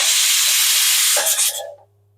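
A pressure cooker cooking country chicken curry gives a loud, steady hiss of escaping steam after being switched off, which sputters and fades away in its final half-second, leaving a faint low hum.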